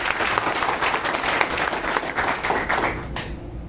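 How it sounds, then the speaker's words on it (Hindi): A lively audience at a Hindi-language group session bursts into loud, sustained applause, dense clapping filling about three and a half seconds before easing slightly at the end. "जोरदार ताली इसके लिए"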